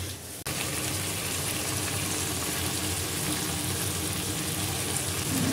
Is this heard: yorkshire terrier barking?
no